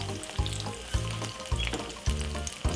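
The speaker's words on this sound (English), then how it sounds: "So as you can see, the egg frying so lovely." An egg fries in a hot pan with a steady, loud sizzle and crackle, broken by a few sharp pops or spatula taps at regular intervals, with no voice over it.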